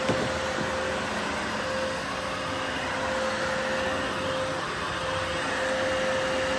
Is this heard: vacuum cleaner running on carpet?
yes